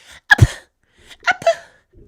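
A voice mimics two small, cute sneezes, each a quick sharp burst with a breathy catch, separated by a short pause.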